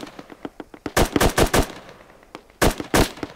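Gunfire in the video game Squad: rapid bursts of loud automatic shots, with clusters of sharp cracks, near and punchy, and no talking.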